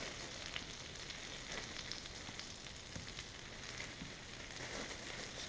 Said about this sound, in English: throw them in the butter.